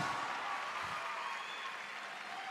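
Festival audience at Viña del Mar applauding a comedian, a fairly faint, steady wash of clapping heard from a distance, with no voices.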